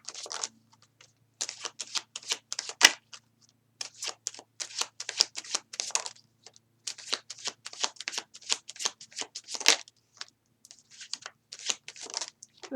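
Tarot cards shuffled by hand during a Virgo reading, a run of crisp riffling bursts in repeated bouts with brief pauses between, close and fairly quiet, no voices.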